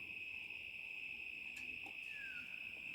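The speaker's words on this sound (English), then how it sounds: "We've got the cicadas here now." Cicadas droning outdoors in warm weather, a steady high-pitched buzzing that holds constant and fairly faint throughout, with a few brief chirps or calls layered over it.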